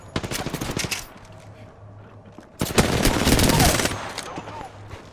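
Automatic gunfire in the video game Apex Legends, rapid bursts of shots in two loud runs separated by a brief lull, the second longer and denser, with a low game hum underneath.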